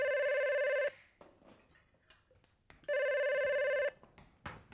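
A telephone rings in two long electronic bursts separated by a pause of about two seconds, clear and close over a quiet room.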